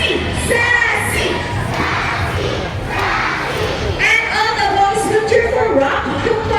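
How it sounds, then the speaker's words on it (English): At a sea lion show at Manila Ocean Park, a large crowd of girls cheers and chants loudly in bursts of shouting, with an announcer's voice mixed in among the crowd noise. "All the girls will cheer for Sassy"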